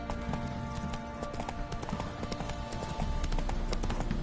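Roach, a horse in The Witcher 3, gallops with steady rhythmic clip-clop hoofbeats, close and continuous over game ambience and music.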